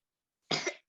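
A single short burst of a little girl's cough, close and fairly loud, with a hint of a second cough starting right at the end.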